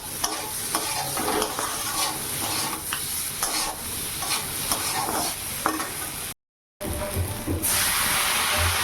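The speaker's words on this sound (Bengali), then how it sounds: "ওই যে লঙ্কাও দিয়ে দিয়েছি, লবণ হলুদ সব দিয়ে ভালো করে কষিয়ে নেব আলুটা" Potatoes sautéing in a pan with chilli, salt and turmeric, a steady close sizzle with repeated scraping stirs throughout and a brief gap near the end.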